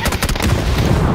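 Loud, rapid gunfire rattles in a PUBG match, a dense burst of repeated close shots layered over booming low rumble that lasts the whole brief moment.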